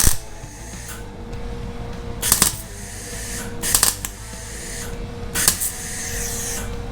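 Welding on the floor pans of a 1955 Chevy: three short crackling bursts of arc noise, each about half a second long, separated by steady background hum.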